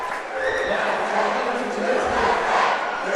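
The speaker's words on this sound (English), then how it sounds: "Crowd noise tells a story, Doug." A crowd at a high school boys' basketball game, Sutherland versus Mendon, cheers in a loud, sustained roar of mixed voices with no break.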